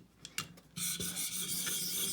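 Knife blade, a Benchmade Mini Adamas, scraped across a sharpening stone, giving a few short rasping strokes followed by a steadier, louder continuous grinding rub, close and without talk.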